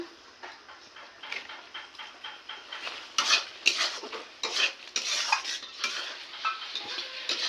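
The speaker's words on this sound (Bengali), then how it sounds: "এবার আমি মশলাটা ভালো করে কষাবো" Spice paste being stirred and sautéed with pointed gourd in a pan, with repeated clinking, scraping spoon strokes against metal in an uneven rhythm over a soft sizzle, close and without talk.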